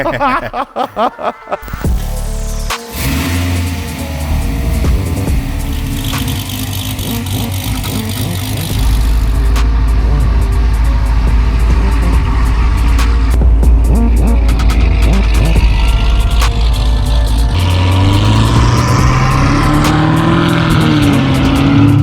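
A supercharged Cadillac CTS-V sedan engine rumbles steadily at close range, idling then holding a deeper, louder drone, with a faint high blower whine riding over the low roar.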